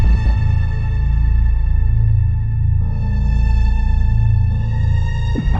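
A full dark drill or trap beat built in FL Studio, with heavy booming sub bass pulsing under a sustained, eerie sampled melody and a brief break midway, loud and continuous with no voices.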